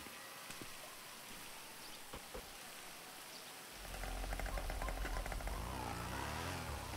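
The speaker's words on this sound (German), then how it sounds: "Ich möchte jetzt auch nicht im Regen rumtigern." Steady rain falls outdoors, faint patter at first and then a louder, fuller wash of rain from about four seconds on, with a low engine-like rumble mixed in and no talking.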